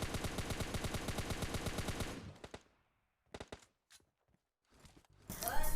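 In PUBG Lite, rapid automatic gunfire rattles out in a fast, even burst from a jungle hut, followed by a hush with a few scattered single shots and footsteps, then a sudden loud blast at the end.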